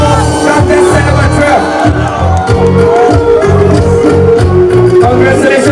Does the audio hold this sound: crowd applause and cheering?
yes